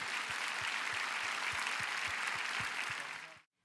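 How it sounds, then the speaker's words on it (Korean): A church congregation at a Daniel prayer meeting gives a big round of applause after a testimony: a steady, fairly quiet wash of clapping with soft low thumps pulsing underneath, stopping abruptly just before the end. "이 모든 영광을 큰 박수로 올려드립니다"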